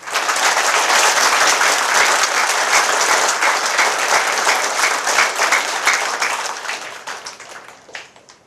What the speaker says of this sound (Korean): 기쁨을 환영의 박수 한번 올립시다